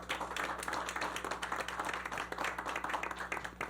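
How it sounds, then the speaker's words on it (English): An audience at a San Nicolas community forum on Aruba claps to thank a sponsor, many hands applauding in quick, uneven bursts with a distinct patter of individual claps, steady and fairly close throughout. "Just give one more applause to them."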